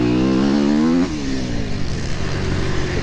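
A Kawasaki enduro motorcycle on a slick sprint enduro course revs hard and loud at close range, its engine pitch rising and then dropping before settling into a rougher, steady drone.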